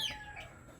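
Young chicks in a simple breeding pen let out after release, giving a brief burst of soft clucking that fades quickly.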